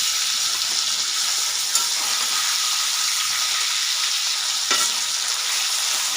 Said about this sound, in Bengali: আর এক পিঠ আমি ভালো করে ভেজে নেব।